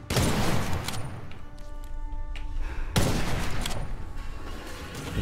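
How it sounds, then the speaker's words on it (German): Two heavy booming sniper rifle shots from the video game Witchfire, each a loud blast with a long decaying tail, the second about three seconds after the first. "Also eine Sniper-Rifle in diesem Spiel ist Gold wert, sag ich euch."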